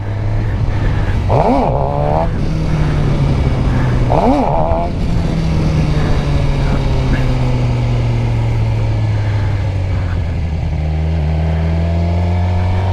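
A stock Suzuki GSX-R 600 sport motorcycle being ridden in first gear during wheelie practice, its engine loud and close with two sharp revving surges early on and then a steady drone that slowly falls in pitch.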